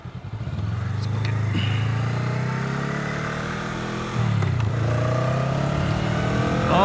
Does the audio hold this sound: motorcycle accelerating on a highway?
yes